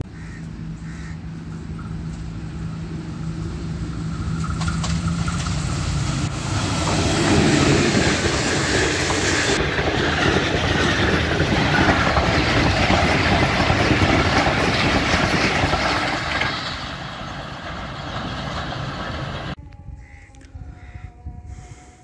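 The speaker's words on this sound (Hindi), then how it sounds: "बहुत ही खूबसूरत रेलवे स्टेशन सादोके, छोटा सा रेलवे स्टेशन है।" Train moving through Sadhoke, a small railway station, a loud, steady rumble and clatter of rolling stock that swells in the middle and fades near the end, with no voices.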